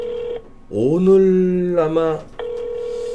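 Telephone call connection tones on a Korean broadcast: a steady electronic tone, a burst of voices in the middle, then the tone returning near and clear.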